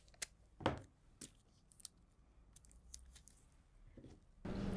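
Scissors snip through fabric laid under a paper pattern while pieces for a pleated dress are cut out, giving a handful of short, close crisp cuts spread apart with quiet handling in between.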